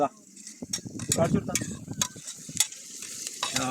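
Beef frying in ghee with no oil, stirred in a pan at an outdoor cooking spot in Salalah, Oman; close sizzling with scraping and clinking of the utensil, steady under brief talk.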